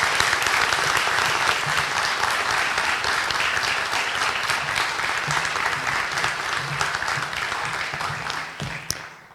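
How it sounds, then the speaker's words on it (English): A graduation ceremony audience at a collegiate commencement bursts into loud, dense applause that holds steady for about nine seconds before tapering off at the end. "Let's give them a round of applause."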